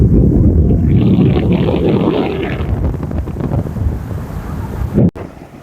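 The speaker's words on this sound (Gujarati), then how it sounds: "કેટલા મોજા ઉછળે છે ને કેવું પોઝિશન છે તે તમને લગભગ અવાજમાં ખબર પડતી હશે પાણીનો જે મોજાનો અવાજ છે" Rough monsoon sea waves crashing on the shore near a coastal temple, a loud close surge of churning surf buffeted by heavy wind noise on the microphone, easing slightly before a final short burst and a sharp cut.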